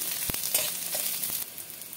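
Onions and green chillies fry in hot oil in a pan, a soft, steady sizzle with a few faint clicks from stirring, quiet and close, with no voices.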